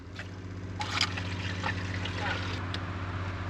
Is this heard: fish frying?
no